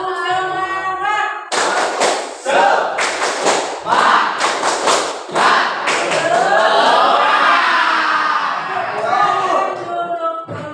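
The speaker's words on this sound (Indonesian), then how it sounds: "1, 2, 3, tepuk semangat." A class group performs a rhythmic spirit clap after a counted cue, sharp bursts of hand claps and thuds in a patterned sequence, mixed with voices and a crowd calling out together.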